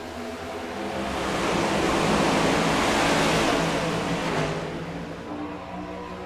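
Race cars in the iRacing video game accelerate together on a green-flag restart at Michigan, a broad roar that swells to a loud peak mid-way and then fades, with no talk.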